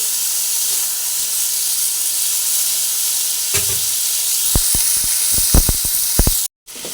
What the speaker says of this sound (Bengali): ফুলকপিগুলো কিছুটা ভাজা হয়ে গেছে সেই সময় এর মধ্যে নুন ছড়িয়ে দিলাম